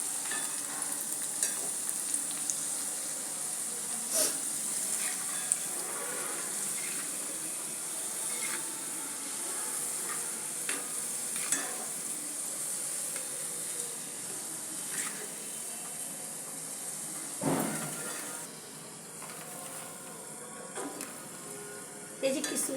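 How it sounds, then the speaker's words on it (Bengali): Raisins frying and being stirred in hot oil while chanachur is made: a steady close sizzle runs throughout, with scraping stirs and clinks from the pan and a louder clatter near the end. "আর কিশমিশ দিয়ে দিলাম। কিশমিশটা ভেজে নেব।"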